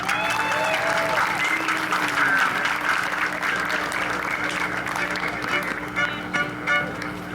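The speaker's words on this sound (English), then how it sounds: "give a big round of applause for Ed Carnes" Sustained crowd applause at a national fiddler championship in Leitchfield, Kentucky, thick and continuous for several seconds, with voices and a whoop or two ringing through the clapping and a low steady hum underneath.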